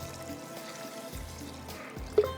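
Water poured over rice to soak it in a home kitchen, a steady soft pouring and trickling sound, close and moderately quiet, with a small splash near the end.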